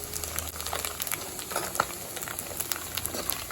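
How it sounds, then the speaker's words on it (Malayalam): Coconut pieces fry in a pan while being stirred, producing a soft continuous sizzle with irregular scraping and stirring clicks, fairly quiet and close. "ഇപ്പോൾ നന്നായി ഒന്ന് ബ്രൗൺ കളറ് ആകണ വരെ നമ്മളൊന്ന് ഇടയ്ക്കിട്ടൊന്ന് ഇളക്കി കൊടുക്കുക."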